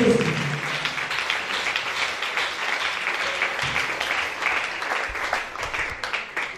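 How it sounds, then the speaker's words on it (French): Church audience applauding during a testimony, sustained clapping from a crowd filling the room, loud and continuous throughout with faint voices underneath. "Put your hands together for Jesus."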